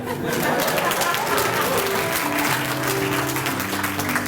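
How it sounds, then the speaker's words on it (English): A crowd applauds the Howard Gospel Choir at a symposium, a dense, steady clapping that fills the room, with some voices mixed in. "Give them a hand."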